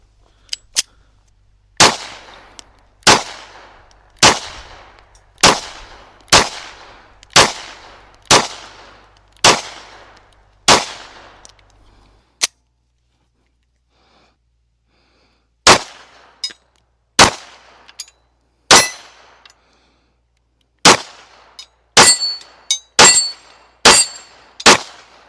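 Girsan MC P35 9mm pistol fired at a range: a steady string of about eight sharp, loud shots, a pause of a few seconds, then another quicker string of shots, each with a short ringing tail.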